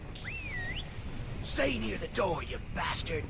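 A short rising-and-falling whistle calls a character in the video game Deadlight, a single brief two-note swoop near the start, followed by someone talking excitedly over faint game background noise.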